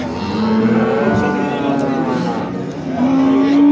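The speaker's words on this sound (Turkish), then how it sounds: "Burada da iki tane inek." Cattle at a livestock market in Afyon, Turkey, lowing in loud, close moos that stretch out and rise at the end, with market noise behind them.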